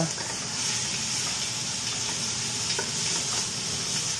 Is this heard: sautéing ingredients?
yes